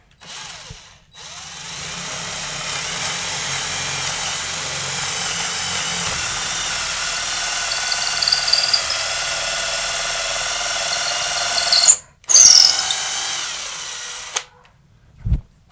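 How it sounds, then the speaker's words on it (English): A power drill with an 8mm bit whines steadily and loudly for about ten seconds as it bores through a wooden window sill, briefly stopping and restarting near the end. "So we're just gonna go through the wood now with our 8mm drill bit."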